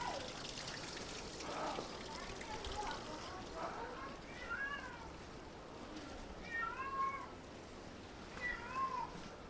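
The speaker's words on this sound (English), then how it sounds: "The cat is calling me." A cat meows three times in short, rising calls outdoors, fairly faint against a steady hiss of background noise, spaced a couple of seconds apart.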